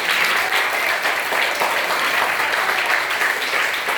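A school audience claps steadily for student performers after a role play and drama, with dense, continuous applause filling the room at an even level throughout, without letting up.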